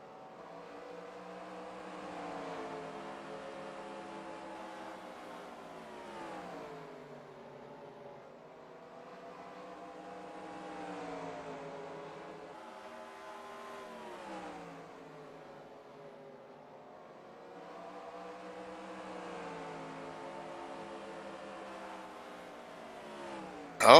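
Race cars lapping Bristol in a NASCAR video game, a steady engine drone rising and falling in pitch through the corners as cars pass through lapped traffic, with no voices.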